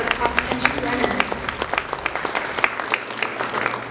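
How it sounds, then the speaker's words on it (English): A school awards ceremony fills with a round of applause for cross-country runners: many hands clap unevenly in a room, with voices talking over the clapping. "So nice round of applause for our cross country runners."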